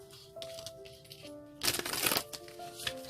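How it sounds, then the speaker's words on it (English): Tarot cards being shuffled, a brief loud burst of riffling and flapping in the middle, with quieter card handling before and after beneath soft steady background music. "One more shuffle, they tell."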